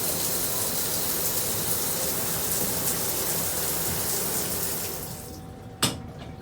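Water sprays hard from a Glacier Bay hand held shower head in a steady, loud hiss that cuts off near the end, followed by a single sharp click.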